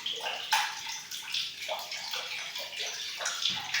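Water runs from a tap into a container at home, a steady close splashing and gurgling rush that continues throughout with no talk.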